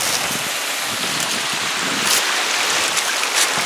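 Soldier Creek trickling over rock on a hike near Lewis Falls, a steady broadband wash of water heard close and continuous, with faint wind buffeting the microphone.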